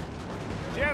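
Cannon and musket fire crackle and thud through a large land battle in Napoleon: Total War, a dense, continuous barrage with a whistling shot near the end.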